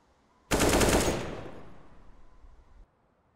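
A sudden loud burst of rapid gunfire in a Counter-Strike esports match, a dense volley that starts abruptly and then tails off into fading echo over about two seconds, with no talk over it.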